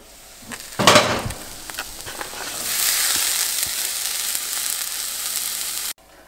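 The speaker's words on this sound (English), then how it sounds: "While the vegetables are cooking in those potatoes" Potatoes, peppers and other vegetables fry in a pot, starting with a loud sharp sizzle burst, then settling into a steady hiss with a few light knocks, before cutting off abruptly.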